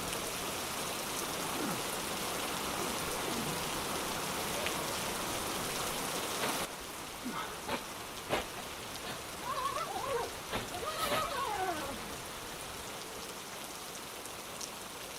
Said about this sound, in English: it's been raining for quite a few hours